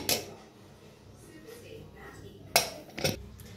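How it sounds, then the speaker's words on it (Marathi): A metal pressure cooker lid holding cooked brinjal is opened with a few sharp clanks and clinks, the two loudest late in the moment, over a quiet background. "आता गॅस खोलून बघूया, हे कुकर खोलून बघूया।"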